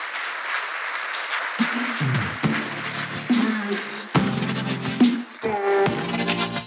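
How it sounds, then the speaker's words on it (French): Audience applause breaks out at a conference debate as a guest is called up to the stage, a steady spread of clapping that rises and falls in bursts without voices over it. "Vous pouvez l'applaudir."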